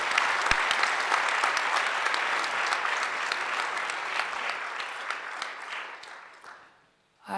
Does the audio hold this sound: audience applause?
yes